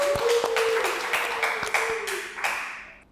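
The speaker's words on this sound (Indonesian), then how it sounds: "Tepuk tangan dulu dong buat Kak Agung." A talk-show audience claps in a short burst of applause with scattered sharp individual claps, and a brief tonal ping at the start, fading over about three seconds.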